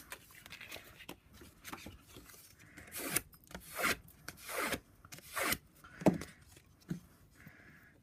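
Hand rubbing across paper to press down freshly glued cardstock on a reinforced Stampin' Up gift box, a series of short scraping swipes, a few louder strokes in the middle, close up with no talking.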